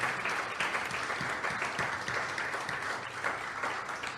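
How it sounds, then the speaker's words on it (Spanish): A church congregation applauds for the Lord, dense continuous clapping that holds steady and fairly loud throughout the short stretch, with no one speaking. "Denle un aplauso al Señor."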